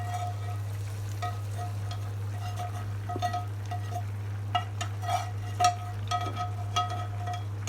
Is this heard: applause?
no